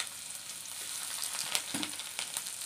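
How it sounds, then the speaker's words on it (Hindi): Garlic dropped into hot oil already crackling with dried red chillies in a rustic home kitchen, giving a steady, close sizzle and frying hiss with bursts of crackle throughout. "देखिए अभी लहसुन डाल दे रही हूँ"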